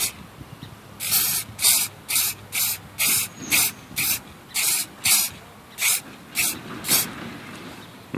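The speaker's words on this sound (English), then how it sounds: "The first coat is just like a real light dusting." Aerosol spray paint applied as a light first coat on a Chevy emblem, about a dozen short hissing bursts in a steady rhythm, close and loud with brief pauses between each pass.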